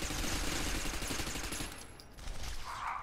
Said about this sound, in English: Oh god, I'm being shot at!